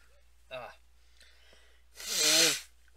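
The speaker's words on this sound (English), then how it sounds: "I was about to sneeze." A single sneeze bursts out near the end, preceded by a short sharp breath or snort a moment earlier, with quiet between them.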